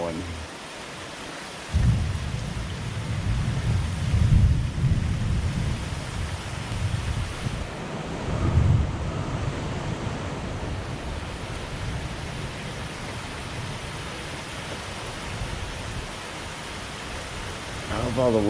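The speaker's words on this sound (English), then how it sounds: "I hope all the windows to our new construction houses are shut, because that's blowing rain." A thunderstorm with hard, wind-driven rain at a construction site where utilities are being installed, a steady loud roar of rain with deep thunder rumbles swelling around the start and middle.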